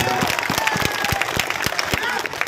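A crowd at a village campaign rally and procession claps loudly, sharp individual claps standing out over a dense wash of applause and cheering, with a voice over a loudspeaker running beneath it.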